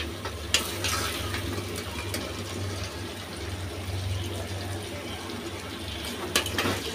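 Pieces of raw sweet pumpkin are lifted out of hot frying oil, with a steady low sizzle and bubbling heard throughout and a few sharp scraping clinks of a utensil against the pan.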